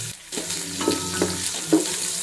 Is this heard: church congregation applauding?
no